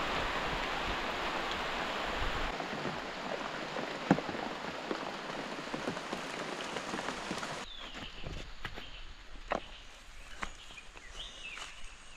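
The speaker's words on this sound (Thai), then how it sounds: "อากาศยามเช้าให้ฝนตกนี่หนาว" Steady rain patters on surfaces on a cold early morning, a soft continuous hiss with scattered nearer drips, then easing to lighter drops with a few faint bird calls in the background.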